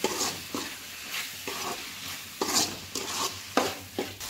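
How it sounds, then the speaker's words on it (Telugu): Chicken coated with pepper powder and chicken masala being stirred and fried in a pan, with rhythmic scraping strokes about every half second over a steady sizzle, close and clear. "అన్నీ బాగా కలిపి వేయించుకోవాలి"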